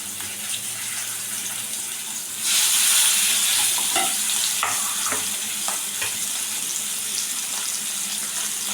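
Spiced pomfret fish frying in a pan on a lowered gas flame, stirred gently, gives a steady hissing sizzle with soft scraping clatters. The sizzle swells louder about a third of the way in.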